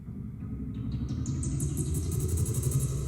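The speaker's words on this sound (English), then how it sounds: "It's like basically a riser." A synth riser with exciter and rising harmonics climbs steadily in brightness and level over a dense, rumbling low-end bed in a drum and bass production, swelling louder toward the end with no voices.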